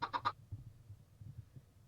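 Three quick clucking calls from a Minecraft chicken, close and clear, spaced evenly at the start, followed by low quiet background rumble with no talk.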